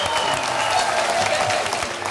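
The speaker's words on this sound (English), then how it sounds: "How about a round of applause for everything you just saw created in 48 hours?" An audience applauds steadily after a round of 48-hour product-invention presentations by twelve teams: dense, continuous clapping from a crowd, moderately loud and sustained throughout.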